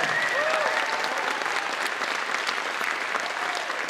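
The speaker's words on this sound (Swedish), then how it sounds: "En applåd!" Large audience applauding at a national music competition final in a concert hall, sustained even clapping filling the whole stretch, loud and steady with a faint whistle or cheer on top.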